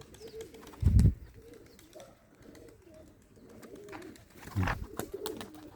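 A pigeon gives a few soft, low coos close by, with a couple of brief thumps and light rustling in a quiet room.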